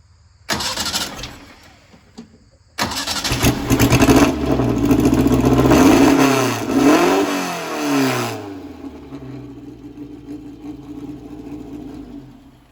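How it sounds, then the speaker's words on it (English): A 1961 ASP Formula Vee race car engine cranks, catches briefly, then cranks again and roars to life, revving up and down a few times before settling into a low idle. "We can have them start it up again, maybe do a couple revs."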